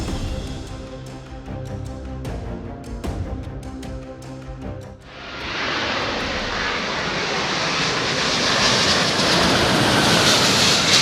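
An airplane coming in to land on a runway, first a jet engine's whine with rattling clatter, then a sudden swell into a loud, sustained roaring rush as it touches down, with no voices.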